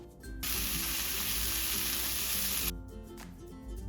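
Beef bulgogi fries in a pan with green onions and sesame seeds, a loud, bright sizzle bursting up close for about two seconds before settling to a quieter crackle, with no talk.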